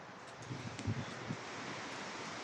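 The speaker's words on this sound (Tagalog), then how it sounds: "Lakas ng hangin tapos snow." Strong wind roaring steadily outdoors during snowfall, a broad rushing noise buffeting the microphone, with a few soft thumps early on.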